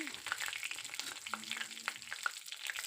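Bay leaves, cinnamon sticks and cardamom pods sizzling in hot oil with whole cumin, a soft steady crackle and spatter close by, with faint stirring scrapes.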